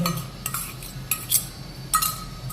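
A spoon stirs masala into a pot of drumstick (sargva) curry, scraping and clinking against the metal in irregular strokes, close up, with a faint simmer beneath.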